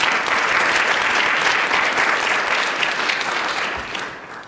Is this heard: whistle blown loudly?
no